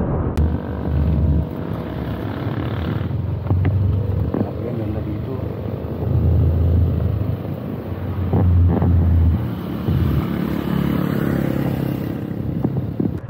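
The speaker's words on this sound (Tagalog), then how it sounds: "malakas yung hangin, tapos yung drone natin nagwa-warning sign sa ating monitor na malakas ang hangin talaga" Strong wind buffeting the microphone at Agoncillo baywalk in Buso Buso, Batangas, a loud steady rumbling roar with gusts swelling and easing throughout.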